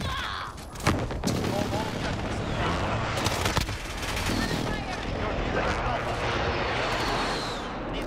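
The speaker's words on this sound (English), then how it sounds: "Precision airstrike, ready on you." Rolling explosions and gunfire from a precision airstrike in a military shooter game, dense continuous booms and crackling blasts with a sharp hit near the start and a voice over the din.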